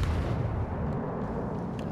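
Heavy main battery gunfire from a warship in the naval combat game World of Warships: Legends (Tier VIII cruiser Agir), heard as a loud low rumbling boom that rolls on and decays over two seconds.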